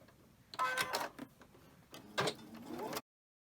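A domestic sewing machine stitches quilt pieces in two short bursts of rapid mechanical whirring, quiet and close, separated by a brief pause before stopping.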